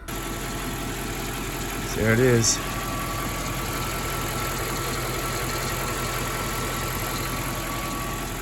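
A V8 engine idles after a noisy-lifter fix, a steady, even hum with a constant mechanical drone. Someone speaks briefly near the start over the running motor.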